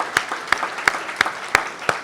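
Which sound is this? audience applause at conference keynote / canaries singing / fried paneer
audience applause at conference keynote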